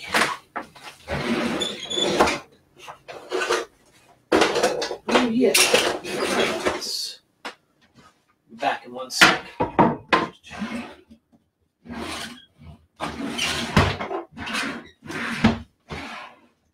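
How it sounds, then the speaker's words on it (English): Drawers and cupboards are opened and rummaged through in search of a marker: repeated clattering, knocks, sliding and clinking of utensils in bursts over many seconds, close and fairly loud, with a few spoken words between. "This is the sound of me going through all my drawers looking for"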